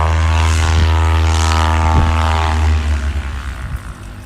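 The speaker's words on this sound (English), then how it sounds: "Cessna flight day." A Cessna propeller airplane drones loudly overhead on a hot afternoon in Tokyo, its steady engine tone near and strong before it fades gradually as the plane passes.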